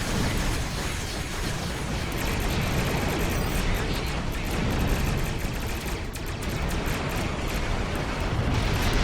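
Dense, continuous barrage of weapons fire from space combat in the game Star Trek Online, loud and unbroken throughout with rapid overlapping blasts and no voices.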